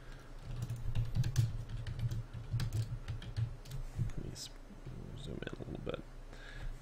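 Fast typing on a computer keyboard while writing code, a steady stream of quiet clicks and key taps close by, with soft speech-like murmurs underneath.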